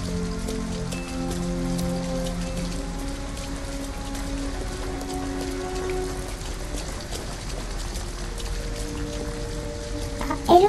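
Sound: rain in video game Detroit: Become Human

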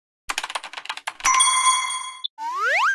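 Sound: ding-dong chime

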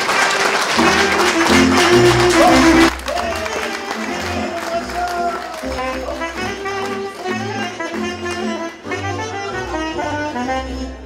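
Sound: audience applause in front of the orchestra

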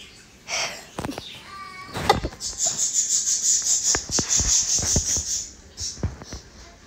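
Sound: cat meowing in the PKXD video game

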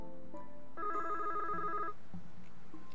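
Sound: telephone ringback tone in a video game

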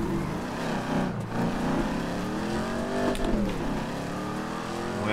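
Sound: car drifting in FiveM video game, played with gearshift

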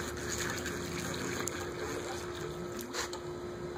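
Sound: pool vacuum hose being fed into water

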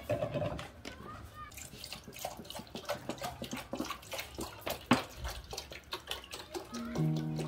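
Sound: water poured into a pot for pasta

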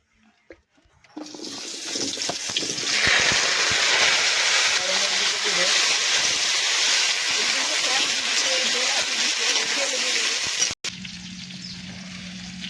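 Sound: oil sizzling in a hot wok

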